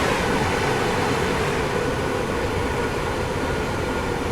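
A fast limited-stop train rushes past in Train Sim World 5 on the West Coast Main Line South route, a loud, steady broadband roar and rumble sustained throughout, with no talking.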